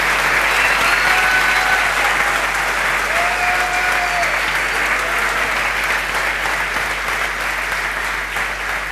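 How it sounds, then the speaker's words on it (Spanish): A large church congregation claps loudly and continuously, sustained applause filling the room with a few faint voices mixed in. "Dale un fuerte aplauso al Señor."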